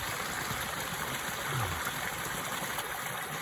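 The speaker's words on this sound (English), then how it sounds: "A mini waterfall." Small waterfall at a lake inlet, a steady close rush of falling water filling the whole stretch with broadband splashing.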